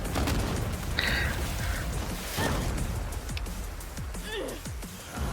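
A loud, dense barrage of booming explosions and bursts from an animated fight rumbles continuously, with a voice speaking briefly over the chaos.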